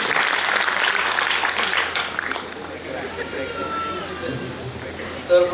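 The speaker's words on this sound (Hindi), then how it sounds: "एक बार अपने आंगन की तुलसी के लिए ये पूरा सदन जोरदार तालियों में आए।" An auditorium audience at a Hindi poetry gathering claps loudly and steadily for about two seconds, then the applause thins and fades into a quieter murmur of the hall.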